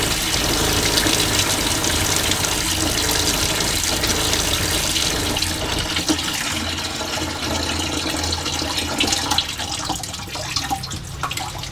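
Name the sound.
water flowing from pressurized van water system tap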